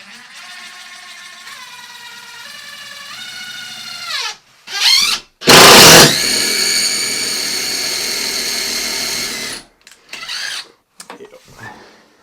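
A power drill drives screws through half-inch sheetrock into a wall stud, its motor whining up in pitch, stopping, then a loud grinding burst and a long steady run, with short bursts at the end.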